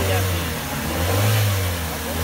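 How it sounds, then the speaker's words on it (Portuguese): A Fiat Uno engine revs up close, a loud, continuous low drone that swells and eases slightly over the short moment, with a voice briefly audible. "Sente o ronco da motor"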